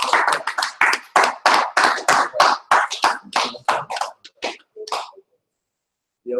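About twenty sharp hand claps in a steady rhythm, close and loud, slowing and thinning out before stopping into silence.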